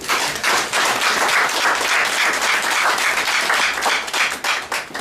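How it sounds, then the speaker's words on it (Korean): Audience applause fills the room at an inauguration ceremony for a children's charity foundation's new chairman, steady dense clapping from a crowd, loud and sustained throughout with slight swells and dips near the end. "박수 부탁드립니다."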